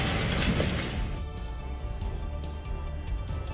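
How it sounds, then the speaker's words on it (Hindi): A house collapses into the flooded Beas River, swollen by water released from the Pong dam. A loud broadband crash fills the first second, then gives way to a steady roar of rushing floodwater. "ये घर लहरों के दबाव को झेल नहीं पाया और ढह गया।"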